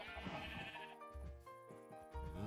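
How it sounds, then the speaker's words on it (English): A Minecraft sheep bleats in a wavering, nasal cry that repeats in close, loud bursts and nearly fills the whole moment. "Now the sheep is coming in."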